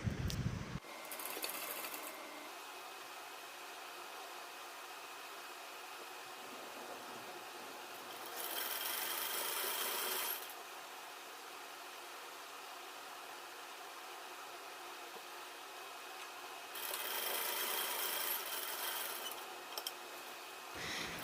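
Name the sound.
sewing machine stitching lining suit side seams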